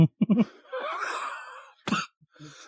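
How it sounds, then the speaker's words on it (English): A few short throaty coughs at the start during a comedy show, then a drawn-out groaning exhale, another sharp cough, and a faint murmur. "It was a cough."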